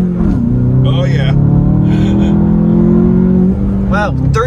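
A 2022 Volkswagen Jetta GLI turbo engine pulls hard under heavy boost, its loud steady drone rising in pitch through the gears from inside the cabin, while people talk over it.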